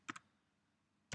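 A pair of quick computer keyboard keystrokes, then a pause and a third crisp key press, close and clear in a quiet room while setting up a Windows server domain.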